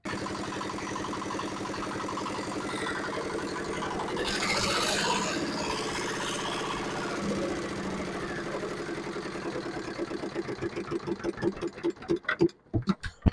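A small diesel walk-behind tractor engine, freshly repaired with a new crankshaft, chugs steadily, swells briefly, then slows into widely spaced thumps and knocks as it winds down.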